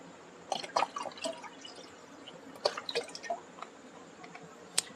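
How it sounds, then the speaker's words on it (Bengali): Milk being poured into a cup while making a kalakand cake, heard as soft drips and splashes in irregular bursts, close and quiet, with no talking. "একটা কাপে ঢেলে রাখছি।"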